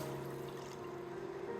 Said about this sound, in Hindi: पानी डाल देते हैं